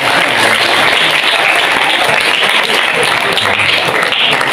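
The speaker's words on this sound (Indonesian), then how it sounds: "Tepuk tangan dulu." Audience applause at a school award ceremony, a dense, steady wash of clapping from a crowd that stays loud and even throughout, with no talk over it.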